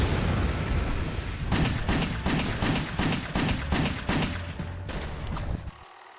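Rapid gunfire in the video game WET during a sliding attack, a run of sharp repeated shots over about four seconds amid steady game music and effects, cutting off abruptly at the end.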